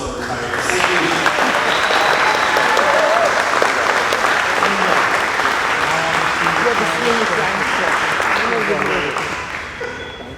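A full room of people applauds retirees at a school board of education meeting, steady dense clapping that holds loud for nearly the whole stretch before easing slightly at the end.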